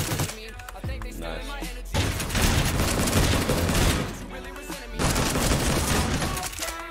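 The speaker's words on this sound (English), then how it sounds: "Without trying, I can just shoot a lot of bullets out of it." A gun in the video game BuildRoyale firing many bullets in dense, sustained bursts, loud and continuous across several seconds with brief lulls between volleys.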